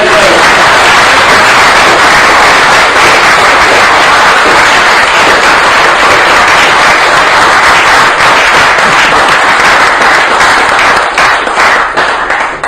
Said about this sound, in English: Give a fantastic big round of applause